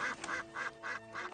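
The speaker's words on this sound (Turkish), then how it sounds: "Hey bak, ördekler de var." Several ducks quack in a steady series of four or five nasal calls spaced about a third of a second apart, close and moderately loud over a soft background hiss, with no talking.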